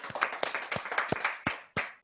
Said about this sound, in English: Can we please get everyone who's on set to big round of applause for you